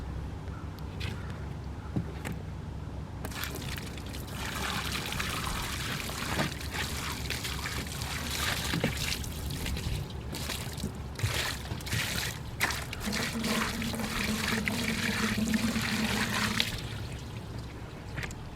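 Water poured over a sealed aluminum-cased LiFePO4 battery, a steady splashing pour and trickle running for most of the stretch with a lower sloshing tone near the end, no talking.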